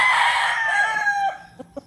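A gamefowl rooster at a Batangas game farm crows once, loud and close, the long call trailing off into two short clucks.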